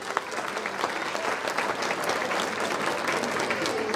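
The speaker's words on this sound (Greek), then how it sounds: "Ένα χειροκρότημα παρακαλώ για τους Βενιαμίν μας." A crowd at a village night celebration in Grizano claps steadily for a group of small children, dense continuous applause with no pauses and a few louder claps near the start.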